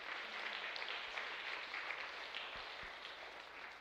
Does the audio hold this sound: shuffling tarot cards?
no